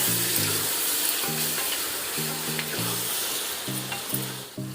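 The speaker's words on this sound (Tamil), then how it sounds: "நல்லா வதக்கிக்கோங்க. தக்காளி நல்லா வதங்கணுங்க" Tomatoes sauté in hot oil for chicken biryani with a loud, continuous sizzle and stirring scrapes, while a repeating low tonal pulse sounds in a steady rhythm underneath.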